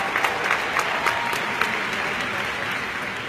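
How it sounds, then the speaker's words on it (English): An audience claps at a corporate state-of-the-union address, a dense, even round of applause sustained throughout with a few sharper individual claps standing out. "Give them a round of applause"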